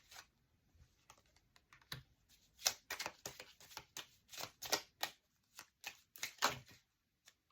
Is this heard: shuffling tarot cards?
yes